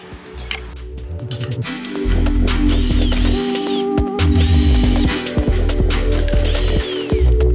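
A power drill whirs in repeated bursts, stopping and starting as it bores into material, close and loud with a ratcheting mechanical edge.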